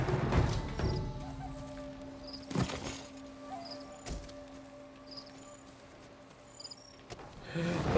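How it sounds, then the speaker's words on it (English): Crickets chirp in the Ghost of Tsushima video game, thin high trills and tonal calls scattered over a quiet nighttime ambience, with a few soft thumps and rustles near the start and end. "The final cricket."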